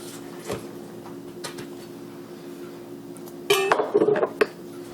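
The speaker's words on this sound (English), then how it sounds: "So I'll try cutting through this first" A knife and server clink against a dish while slicing into a baked quiche, a few faint taps followed by a louder cluster of scraping clatter near the end.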